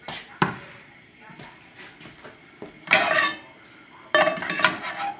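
Vegetables being sautéed in a pan sound as clattering cookware and utensil scrapes, with two louder bursts of stirring and clinking, while someone talks between them.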